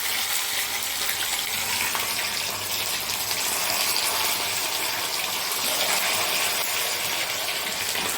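Chicken pieces frying in hot oil for a Telugu chicken pachhadi, a steady dense sizzle and crackle that holds evenly at close range throughout, with no talking.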